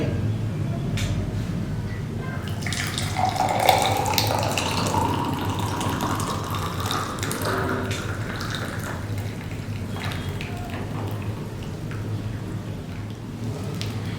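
Boiled water dyed with flowers is poured through a strainer, giving a continuous close splashing and trickling stream that holds steady throughout at moderate loudness.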